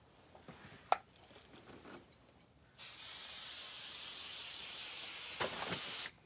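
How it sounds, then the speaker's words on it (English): A spray bottle mists onto the ribbon trim of a skirt being sewn, a loud steady hiss lasting about three seconds after a few faint handling clicks. "So now we're going to spray where the ribbon is."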